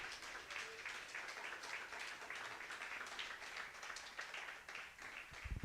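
A church congregation applauding, a faint, distant wash of many hands clapping that carries on steadily throughout without pause.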